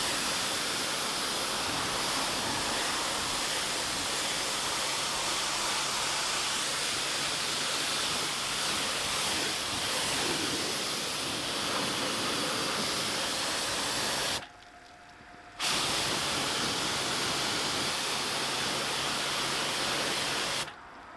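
Pressure washer rinsing a filthy Morgan car after a 4000-mile non-stop drive, a loud, steady hissing spray that runs almost unbroken, cutting out briefly twice, with no talking.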